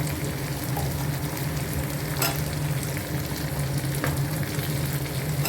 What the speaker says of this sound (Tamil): சிறிது வதங்கினதுக்கப்புறம் நம்ம எடுத்து வச்சுருக்கிற வெங்காயம் சேர்த்துக்கலாம்